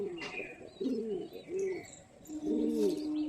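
Pigeons from a home loft of high-flyer birds coo in soft, rolling phrases near at hand, with faint chirps from other birds in the background and no talk.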